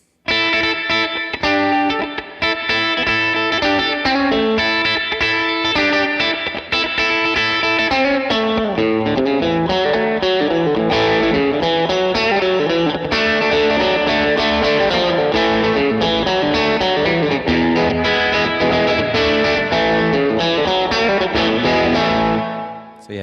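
A distorted electric guitar plays a continuous run of country-style chords and melodic lines through a Boss RV-200 reverb pedal on its hall setting, drenched in lush, roomy reverb, loud and steady throughout.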